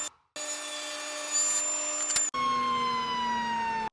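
A power saw rips a walnut board to width with a loud, close, high-pitched whine. A brief silence comes before the blade bites in, the tone drops as it cuts, then the pitch shifts again near the end.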